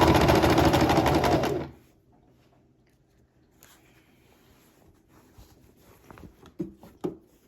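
A sewing machine runs in a fast, dense burst while stitching a shirt seam, then stops abruptly, followed by quiet fabric handling and a few soft knocks.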